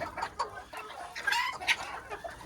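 Mini Cornish hens with laced feathers cluck softly in short, scattered calls, faint and close, with no talk over them.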